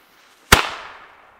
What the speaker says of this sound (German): Wir fangen jetzt hier an mit dem Weco Flashbang.